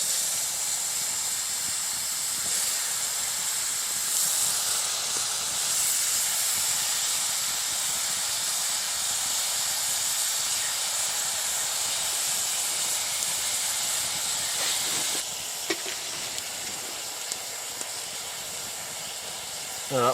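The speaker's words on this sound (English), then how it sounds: "That's a good rolling boil there." A glowing red-hot rock dropped into water hisses with a steady, loud roar of steam and boiling. The hiss runs unbroken and then drops slightly toward the end.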